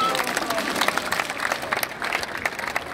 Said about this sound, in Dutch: En we geven hem nog eenmaal een ovationeel applaus.